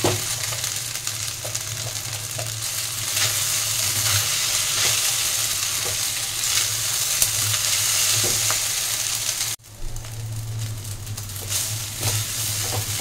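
Bread upma made with noodles, Chinese style, frying and being stirred in a pan over a medium gas flame, giving a steady close sizzle with soft scraping throughout and a brief dip near the end.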